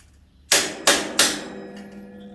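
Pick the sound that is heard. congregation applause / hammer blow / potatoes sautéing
hammer blow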